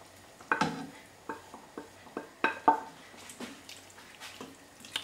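Meat for a steak and mushroom pie is stirred into a gently simmering pan, giving a series of wet, clacking stirs and spoon knocks against the pan over a low bubbling background.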